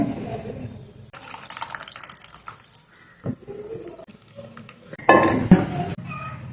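Dal curry being ladled from a pot into a serving dish in a home kitchen, with close clanks of metal utensils against pots and plates, soft scraping and a brief splash, no voices.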